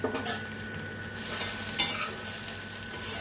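Okra sautés and is stirred in hot oil in a pan, a steady close sizzle under soft scraping strokes, with one sharper clink of utensil against pan midway; no one speaks.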